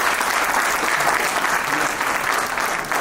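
An audience at an educational event gives steady, loud applause to welcome the guests, continuous clapping throughout with a faint murmur of crowd.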